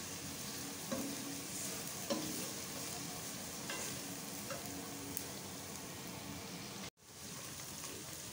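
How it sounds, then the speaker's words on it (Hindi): Chopped ingredients with green chilies frying in a pan for dhaba-style chana dal, a soft steady sizzle with light stirring taps, fairly quiet and continuous. "अच्छी तरह से भुनाई होने दें इनकी।"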